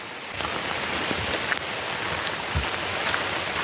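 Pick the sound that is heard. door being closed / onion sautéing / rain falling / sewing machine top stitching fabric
rain falling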